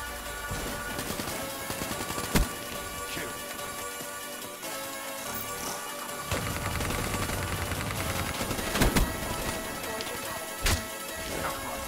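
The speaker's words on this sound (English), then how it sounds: "What are you shooting at?" Gunfire in the video game Black Ops 3, sporadic sharp shots and impacts cutting through a busy layer of game music and effects, several distinct loud cracks spread over twelve seconds.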